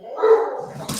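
Household dogs barking indoors, a short burst of a bark or two fairly close and moderately loud, ending in a sharp noisy clatter, with no speech.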